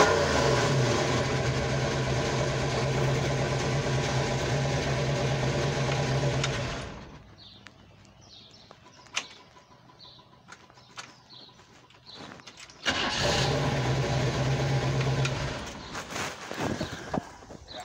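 A 1966 Mustang V8 engine runs loud and steady at close range, drops to a quieter idle with a few sharp clicks and blips, then roars back up before easing off again; no talking is heard.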